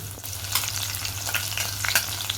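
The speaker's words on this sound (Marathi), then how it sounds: "इथे 1 चमचा तेल घेते। इथे मिरच्या टाकून घेऊया।" Green chilies fry in a spoonful of oil with a steady, close sizzle, broken by a few sharp crackles and pops and no voices.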